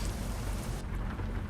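Rain falling in Euro Truck Simulator 2 during a convoy drive in Germany, a steady, dense wash of rain noise with low rumble underneath, continuous and fairly loud.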